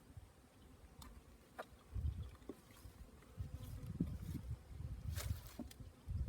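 Soft, low buzzing of bees inside an opened hive fills the air, close and faint, with occasional louder swells and brief sharp clicks.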